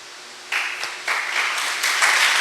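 Church congregation breaks into applause during a sermon, a broad wash of clapping that starts abruptly and swells in steps, fairly loud and steady with no talk over it.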